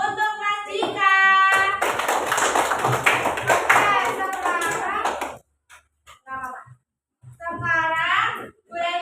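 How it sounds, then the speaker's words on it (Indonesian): A class of children at an elementary school applauding for a classmate, Mas Dika, a loud burst of many hands clapping mixed with children's voices, followed by quieter chatter. "Minta tepuk tangan untuk Mas Dika"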